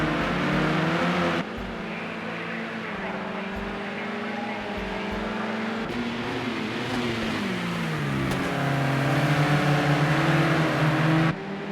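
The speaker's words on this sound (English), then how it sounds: "These guys in the red and blue cars have been racing hard all weekend." Race cars circle the Sugo track in Project Cars 2, engines droning and shifting pitch as they accelerate and pass, a steady loud mechanical hum with several abrupt cuts.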